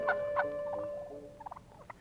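A wild turkey gobbles in rapid, warbling bursts, with a few sharper calls trailing off near the end, fairly close and with no talking.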